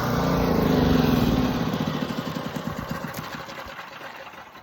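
A standby generator engine runs at a country home on a mountain, with a loud steady rumble that slowly fades to a softer, evenly pulsing idle, with no one speaking.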